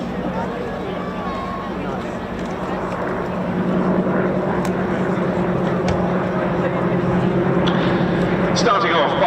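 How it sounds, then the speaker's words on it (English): Two Yak 52 aerobatic aircraft of the Flying Comrades display team pass overhead at an airshow, a steady propeller engine drone that swells slightly louder midway, heard over crowd noise and ongoing talk. "look up and to the left, the two Yak 52s of the Flying Comrades"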